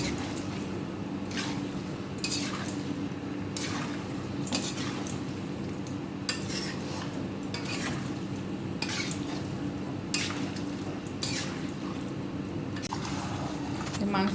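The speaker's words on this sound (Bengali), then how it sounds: "মাংসটা কষানো হচ্ছে, দেখুন কত জল ছেড়েছে।" Meat sautéed and stirred in a pot for biryani, with repeated scraping clinks of a spoon against the metal over a low steady sizzle, the stirring strokes arriving irregularly every second or so.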